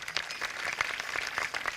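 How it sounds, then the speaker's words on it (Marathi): Applause from the audience at a kirtan, a devotional gathering in a Maharashtra village, as a steady wash of scattered hand claps that is fairly faint and continuous, with no talk over it. "मला वाटतं यांच्याकरता सर्वांनी टाळ्या वाजवा"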